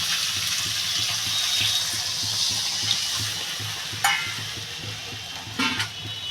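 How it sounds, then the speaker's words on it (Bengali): Tilapia and taro curry sizzling and bubbling in a pan as water goes in, a steady hiss of frying with rhythmic stirring and scraping underneath and a couple of sharper splashes near the end. "এবার তরকারিটাতে বন্ধুরা জল ঢেলে দেবো"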